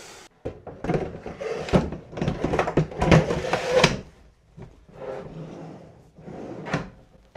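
Newly assembled Platinium internal drawers slid open and shut repeatedly inside a cabinet, several rolling glides ending in soft thunks, close and fairly loud, with a quieter pass near the end.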